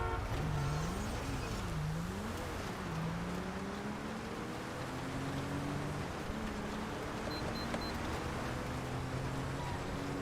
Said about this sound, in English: that car flew past with his alarm on